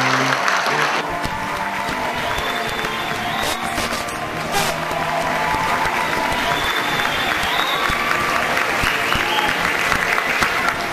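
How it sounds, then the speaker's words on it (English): Crowd at a comedy magic show applauding a volunteer, loud sustained clapping with cheering over a continuous roar, a brief voice at the very start. "Give Dave a huge round of applause!"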